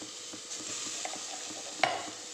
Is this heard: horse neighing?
no